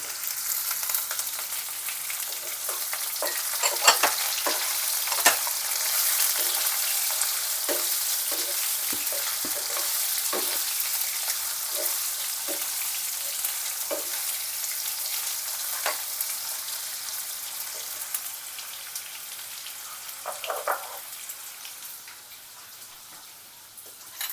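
Carrots added to a frying pan with potatoes for a healthy breakfast, giving a loud, continuous, hissing sizzle with scattered crackles and pops that gradually fades toward the end, no speech.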